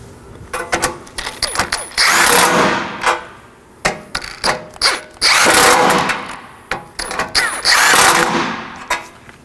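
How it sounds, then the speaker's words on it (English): A 12mm socket ratchet snugging nuts on the front impact absorber of a 2013–2019 Nissan Sentra: quick clicking ratchet strokes alternate with three longer whirring bursts, close and loud, with no talk. "Now that the nuts are installed, I'll be snugging them down using a 12mm."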